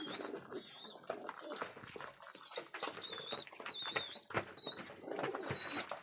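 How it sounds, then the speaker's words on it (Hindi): Pigeons cooing and calling up close in a loft, among a breeding pair with their young and eggs, with repeated soft throaty coos, some higher calls and rustling, and brief talk mixed in. "ये मादा है कबूतर।"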